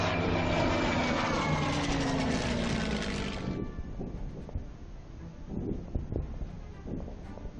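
Propeller aircraft engine drone in the WWII strategy game Order of Battle: Blitzkrieg, a loud steady roar with rising and falling pitch that cuts off after a few seconds, leaving a quieter rumbling game background.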